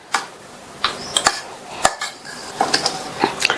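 Hot puttu is mixed with sugar and grated coconut in a bowl, heard as a series of light metallic clinks and scrapes of a spoon against the dish, irregular and close, with no talking.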